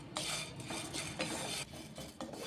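A dry mixture of grated coconut, coriander seeds and cumin is stirred and roasted in a pan for a Maharashtrian masvadi curry, giving close, steady scraping with repeated louder bursts of the spoon against the metal.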